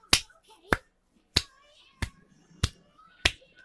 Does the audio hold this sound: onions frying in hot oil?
no